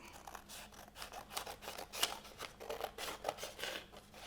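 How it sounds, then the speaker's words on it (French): Scissors snipping through paper while making a scrapbook from recycled materials, a series of short crisp cuts at an uneven pace, quiet and close, no talking. "je vais découper comme c'est fait ici. Donc, avec mon ciseau"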